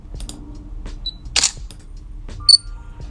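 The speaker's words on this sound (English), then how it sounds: "I love to use the camera shutter." Camera shutter sound effect used in editing, a crisp mechanical click-and-snap like a single-lens reflex firing, loud and close against near silence, with a few smaller clicks around it.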